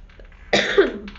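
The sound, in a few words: cough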